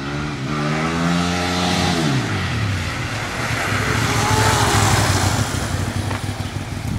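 Ducati 848 motorcycle revving hard, its engine pitch climbing then dropping sharply, followed by a loud, rough, sustained roar as the rider pulls a wheelie close by.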